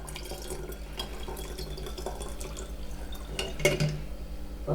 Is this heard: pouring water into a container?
yes